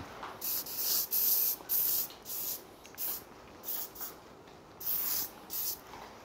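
Short repeated bursts of hair texturizing spray, a soft-hold aerosol misted over a men's long layered cut in a salon, hissing in about ten quick puffs of uneven length with brief pauses between, close and fairly quiet, no talking.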